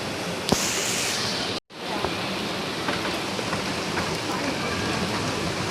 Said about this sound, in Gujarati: મસ્ત વરસાદ આવ્યો